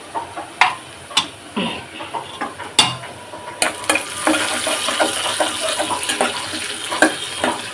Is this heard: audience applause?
no